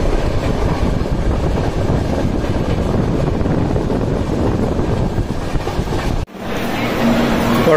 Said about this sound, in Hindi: 5 मिनट बिफोर आई है ट्रेन, 6:33 का टाइमिंग है और ये 6:29 को आई है और 6:43 को जाएगी